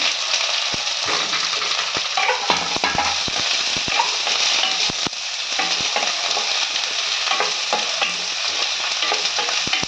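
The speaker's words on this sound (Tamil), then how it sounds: "வெங்காயம் கொஞ்சம் வதங்கட்டும்" Onion and curry leaves fry in a pan for mint rice, a continuous sizzle broken by frequent sharp clicks and scrapes of a spoon stirring against the metal. No voices.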